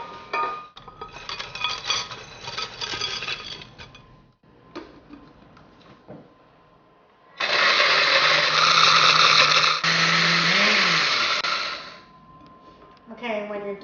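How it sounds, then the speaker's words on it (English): A blender grinding dried pumpkin into powder roars in two loud bursts, a harsh whirring buzz, separated by quieter clattering and ticking sounds. "you're going to put it inside your blender."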